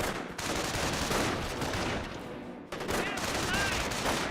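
Rifle fire from an infantry squad fighting Grenadiers in the real-time strategy game Company of Heroes, a dense, continuous fusillade of overlapping shots with a brief lull midway, loud and close, with no talk over it.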